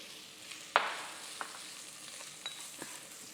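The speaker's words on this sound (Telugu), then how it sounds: "సో దీంట్లో మనం ఉల్లిపాయలు వేసుకుందామండి" Onions fry in oil with ginger and garlic, a quiet steady sizzle broken by a few sharp crackles and light stirring clicks.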